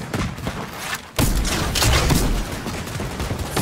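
Sustained gunfire in Fortnite. It starts faint and scattered, then a loud, dense fusillade of rapid shots erupts after about a second and keeps going, with heavy thumps mixed in.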